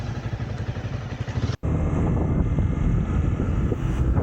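A Honda CBR250 motorcycle rides on a road through a forest tiger reserve in south India, its steady engine drone heard close under heavy wind rush, with a brief cut partway through.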